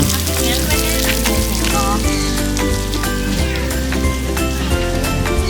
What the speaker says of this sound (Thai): อันนี้ฝนตกหรือว่า อะไร เหมือนฝนตกเลย